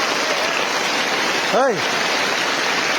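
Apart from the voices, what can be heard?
rain falling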